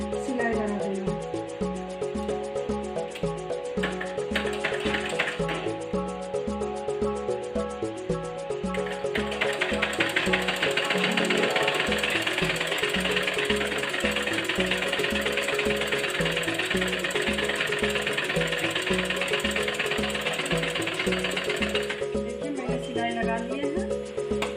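A sewing machine stitches a half-inch fold of green cloth: a steady, rapid mechanical chattering rhythm held close and continuous throughout, with only faint talk underneath.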